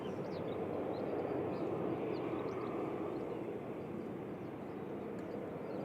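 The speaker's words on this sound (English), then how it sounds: "The jet going in front of the Etihad." A jet airliner taxiing past the Etihad at Manchester Airport gives a steady, continuous engine roar that holds at a constant level throughout, with no voices.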